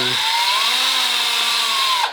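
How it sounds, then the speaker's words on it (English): A power drill runs continuously as it bores into a clay kneeling sculpture before firing, a loud, close, steady motor whine that holds pitch and then cuts off abruptly at the end. "I have my drill, and what I'm going to do is I'm going to try and drill"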